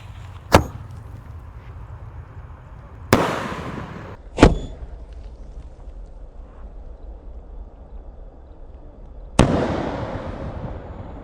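A large 4-inch Bima Sakti rocket firework goes off in sharp, loud bursts: four distinct cracks spread over about eleven seconds, the last followed by a long crackling decay, with a steady low rumble between blasts.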